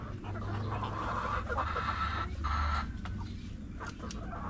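Chickens cluck in a coop on a rainy day, the birds sick with colds and listless; soft, scattered clucks blend into a steady background hiss.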